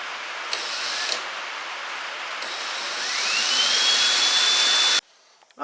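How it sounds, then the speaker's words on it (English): Power drill boring through a car seat mount for stove head bolts during a hot rod build, a steady high whine that builds and rises in pitch over several seconds before cutting off abruptly. "got the seat drilled and bolted"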